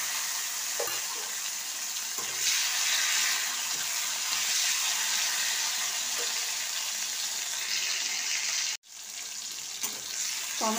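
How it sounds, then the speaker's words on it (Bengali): Tomatoes frying in oil in a wok for a Bengali fish curry, a steady, loud sizzle throughout with faint stirring clinks and a brief dropout near the end. "টমেটোটা দিয়ে দিয়েছি কড়াতে তেলেতে।"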